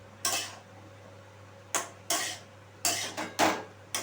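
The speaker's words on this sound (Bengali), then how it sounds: "এবারে আমি আলুটা খুব ভালোভাবে মিশিয়ে নেব।" Boiled potatoes being mixed in oil in a pan for a traditional Bengali mung-poppy seed dish: several sharp clattering scrapes and knocks of a utensil against the pan, spaced apart with a steady low hum between, no talk.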